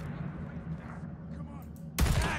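Gunfire in the video game Days Gone: a sudden loud burst of shots near the end, over a low rumbling game ambience, with a voice speaking beneath it.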